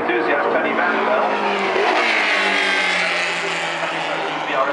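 A classic BRM racing car with stacked pipe exhaust roars loudly past the pits in Bahrain, its engine note rising and sweeping by at close range, with a commentator talking over it.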